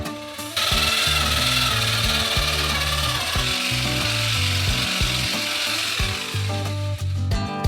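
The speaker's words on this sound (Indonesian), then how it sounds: "Dan campurkan ke dalam es krim dengan mixer besar" A large mixer churns a batch of ice cream for a giant DIY Nutella Go snack. A loud, steady motor whir kicks in after a brief moment and runs on without a break, with no voices.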